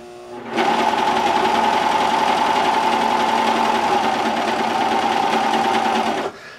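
A serger sewing machine runs one continuous, steady stitching burst along a quilt seam for about six seconds, a close, even mechanical whir with a bright hum, starting and stopping abruptly.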